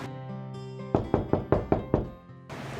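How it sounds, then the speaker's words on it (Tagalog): Six firm knocks on a door in an even, quick rhythm, loud and close over a faint background of tonal music, with a brief rustle at the end. "Teka, may kumakatok."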